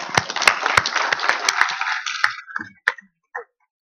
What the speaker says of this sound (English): So big round of applause for them.